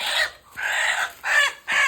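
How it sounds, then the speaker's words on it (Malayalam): A native Kerala hen of the 90-type lineage clucks in three or four short, close bursts separated by brief pauses, with no talking. "നല്ല ഭംഗിയുള്ള കോഴിയാണിത്,"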